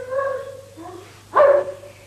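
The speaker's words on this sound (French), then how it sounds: "le chien a fait un aboiement assez franc là" A rescue dog in a cave gives a couple of sharp, loud barks, the strongest one near the end, with echoing tonal yips and quieter gaps in between.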